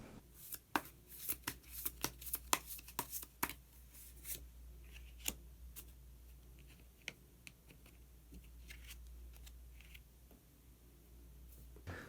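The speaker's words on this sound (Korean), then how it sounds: "마지막으로 마법사 카드 한 장 더 모아보도록 하겠습니다" Tarot cards being shuffled and drawn for a reading: a flurry of crisp card riffles and flicks early on, then sparser soft slaps and taps over a low steady hum.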